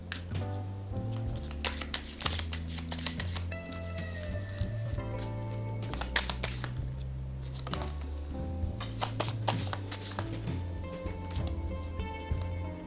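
Tarot cards being shuffled by hand in quick, soft riffling bursts that repeat throughout, heard close under steady background music.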